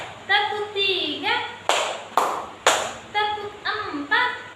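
Hands clap in a classroom ice-breaking clap game, a series of sharp, loud claps in a counted rhythm between a child's and teacher's voices calling out the count.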